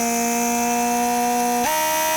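A Mercedes S-Class door lock pump, the vacuum pump for the central locking, runs with a steady electric whine that shifts pitch abruptly near the end, then cuts off.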